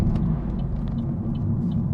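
Engine of a Vauxhall Corsa VXR hot hatch, heard from inside the cabin as a steady, loud low rumble with constant drive noise and no talk.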